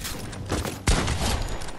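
A pump shotgun fires one loud, close blast in a video game, set amid busy gunfire and game noise, with a player's voice in the background.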